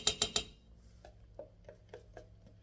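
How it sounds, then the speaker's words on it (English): Leftover yogurt is whisked into milk in a bowl: three sharp clinks open, then a series of soft, evenly spaced taps of the whisk against the bowl, close and fairly quiet, with no talking. "And we're going to whisk this in."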